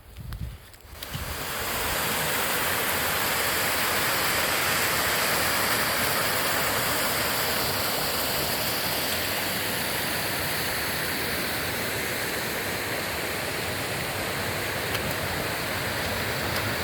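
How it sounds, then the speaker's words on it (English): River rapids along the East Highland Way in winter rush loudly and steadily, a dense broadband roar that swells in after a brief quieter moment at the start and then holds constant and close. "The rapids."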